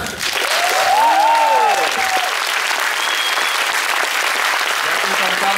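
A crowd at a comic convention gives an ovation for the creator of a music video premiere, a loud, sustained roar of clapping with a voice speaking over the opening seconds.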